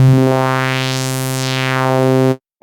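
A sustained synthesizer tone runs through a peak filter while its cutoff is swept up and back down, giving a smooth rising then falling resonant sweep over the steady note before it cuts off.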